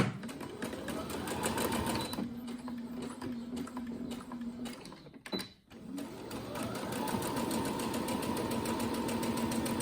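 Sewing machine stitching elastic into a fabric face mask: a fast, rhythmic mechanical whirring and clatter, close up, running steadily with a short pause midway before resuming.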